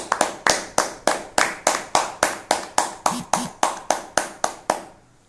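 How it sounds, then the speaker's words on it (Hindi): Clapping for an award winner at the result announcement of an online public speaking competition: single sharp claps in a steady, evenly spaced rhythm, about three per second, ending abruptly. "तो जोरदार तालियां हो जाए आर्यवत विकास के लिए"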